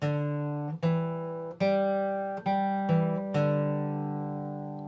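A guitar plucks six notes in a slow, even sequence, each ringing and fading before the next, played alone with no voices.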